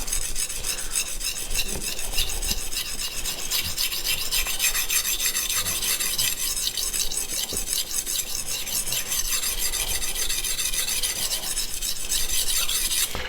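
Steady rasping strokes of a thick Yoshikazu Ikeda honyaki 210mm gyuto in White #2 steel being worked across a whetstone, a continuous close scraping that runs without pause and without talk.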